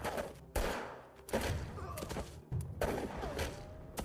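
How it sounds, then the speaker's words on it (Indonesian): Repeated bursts of gunfire in a shootout in the Western murder-mystery game Murder at Yellowstone City, volleys of sharp cracks and thuds arriving in clusters roughly every second with busy noise between. "Baku tembak terjadi di antara warga, Murphy, dan Cicero."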